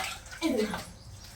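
Water runs from a pipe into containers as a rushing, gurgling stream, with a person speaking briefly over it at close range.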